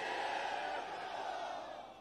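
A large crowd at a Pakistan Peoples Party workers' convention in Lower Dir roars and chants slogans for Bhutto, a sustained dense wall of many voices that fades slightly toward the end.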